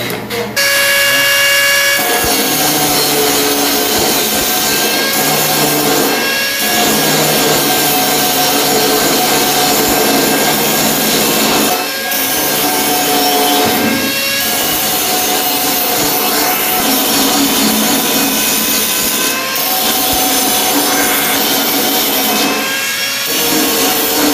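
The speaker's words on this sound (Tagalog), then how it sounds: "ito na yung ating grinder at itong ating grinding disc" An angle grinder with a grinding disc works a stainless steel pipe, giving a loud, sustained whine with harmonic tones that dips and rises briefly every few seconds as the disc meets the metal.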